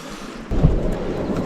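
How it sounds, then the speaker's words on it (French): Heavy rain falls during a hike, a dense rumbling wash that swells in abruptly after a quiet start and then continues steadily, close and fairly loud, with no talking. "Il pleut. De ouf."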